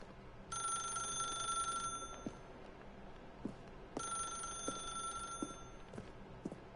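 Telephone ringing in The Stanley Parable video game, two clear electronic ring bursts separated by a pause, fairly loud against faint background clicks and thumps.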